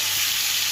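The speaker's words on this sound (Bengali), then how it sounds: "এই আলু ফুলকপিটা একটু ভেজে নিই" Potato and cauliflower fry in a pan with a loud, steady, close-up sizzle that holds evenly from start to finish.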